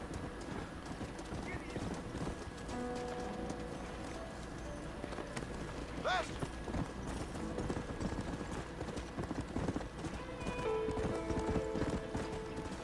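Horse hooves clip-clop in the video game Red Dead Redemption, a steady rhythmic trot throughout, with a brief whinny, game music and someone talking over it.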